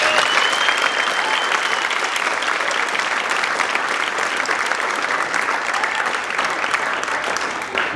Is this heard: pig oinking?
no